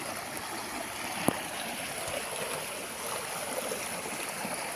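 Small river stream flowing past farmland roughly 90 km from Bangalore, a soft, even rush of running water heard from a slight distance, with one faint sharp click partway through.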